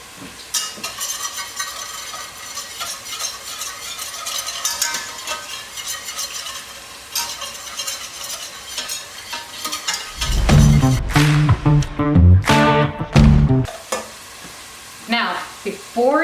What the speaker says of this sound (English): you're going to take your flour and you're going to slowly whisk that in